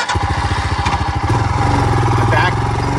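A Royal Enfield motorcycle engine runs close by with a loud, pulsing thump that quickens slightly midway and then holds a steady idle, and a voice talks over it.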